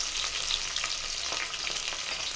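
Onion, green chili and whole garam masala fry in hot oil for a veg biryani, making a close, steady sizzle with light stirring clicks and no talking.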